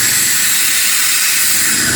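Steady, loud broadband hiss of air escaping from a PCP airgun during repair, continuous and close with no pauses.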